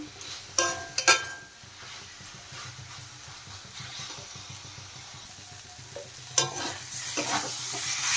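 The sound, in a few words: fried soybean chunks sautéed and stirred in masala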